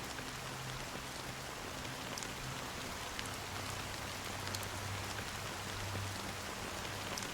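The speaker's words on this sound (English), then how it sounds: "Amidst a fine drizzle of black rain" Steady rain falls in the video game Honkai Star Rail, an even, dense patter of drops on surfaces that holds at a constant level with no voices.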